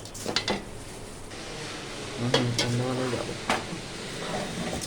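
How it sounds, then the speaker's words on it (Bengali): Sugar being mixed by hand into shahi vermicelli (simai) in a bowl: soft continuous rustling with a few light clinks of dish and utensil, and brief voice-like sounds in the middle. "চিনিটা আস্তে আস্তে আমি মাখিয়ে নেবো"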